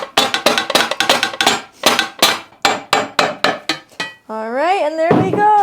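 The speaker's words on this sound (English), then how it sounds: "I'm going to use my soft base hammer" A soft-faced hammer strikes an engine part repeatedly in quick, uneven bursts of sharp taps, then pauses before a short rising tonal squeal.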